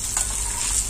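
Chopped adamant creeper (pirandai) frying in plenty of oil in a pan, giving a brief, steady, bright sizzle heard close up with no one talking.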